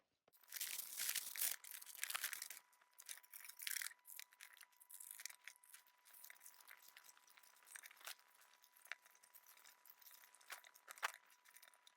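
Corrugated cardboard is crinkled, bent and slid into place by hand, producing faint scattered scrapes and rustling crunches with no voices.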